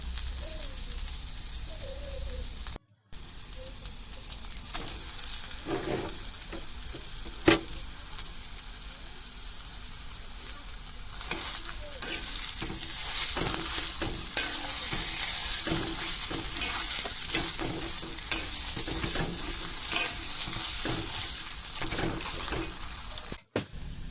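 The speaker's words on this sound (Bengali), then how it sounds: "তাই এবারে দিয়ে দিচ্ছি আলু গ্রেট করা।" Grated potato frying in a pan with spices and green chilli, a continuous close sizzle with frequent spatula scrapes and taps as it is stirred, growing busier in the second half.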